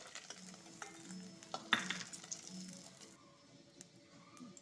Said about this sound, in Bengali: পনিরটা একটু ভেজে নিব